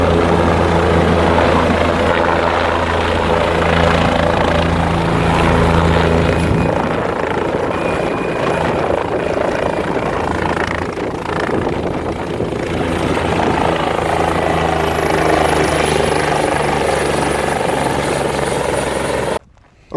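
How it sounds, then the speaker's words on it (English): Helicopter flying in and landing at a remote pine-covered site used for tree removal, its loud continuous rotor thrum and engine whine filling the whole stretch close by before cutting off abruptly at the end. "why is the helicopter necessary here?"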